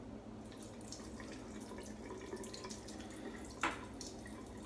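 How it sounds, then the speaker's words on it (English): Water trickles and drips from a tap while preparing to shave with a Holy Black SR-71 double-edge razor, a soft continuous flow with one brief louder splash near the end and no talking. "I'm just gonna add a touch of water here"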